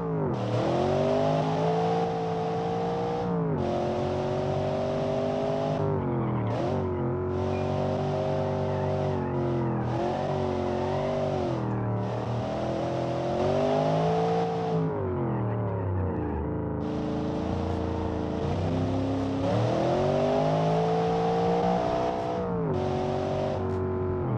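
A car in BeamNG revs and drives hard, its engine rising and falling through repeated gear changes with a throaty, continuous roar and brief dips between pulls.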